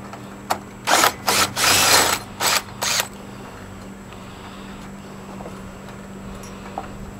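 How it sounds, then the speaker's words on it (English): A Makita power drill whirs in several short, loud, close bursts over about two and a half seconds while removing a part during an HVAC repair, followed by a low steady hum. "pop her into Makita, and let's take this dude out."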